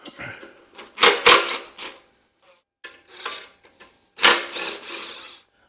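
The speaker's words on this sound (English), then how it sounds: "I'm going to remove this 10 millimeter bolt there, along with the other 10 millimeter bolt there" A wrench loosens 10 mm bolts on the carburetor bracket of a Honda GX160 engine on a Tru-Cut C-25 reel mower, with several bursts of ratcheting and metallic clicking separated by short pauses.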